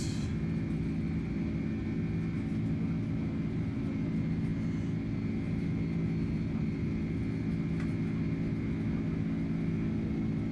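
Jet engines of an Airbus A310 roar in a steady, loud rumble during the takeoff roll in Microsoft Flight Simulator 2020, with no talk over it.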